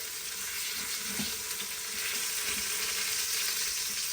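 Meat browns in a frying pan with a loud, steady sizzle that hisses continuously at close range, with a few faint clinks underneath.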